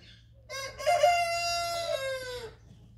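A rooster in a household farmyard at evening feeding time lets out one loud, close crow lasting about two seconds, with soft low clucking from the other birds underneath.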